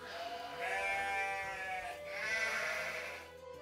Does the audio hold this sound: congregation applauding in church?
no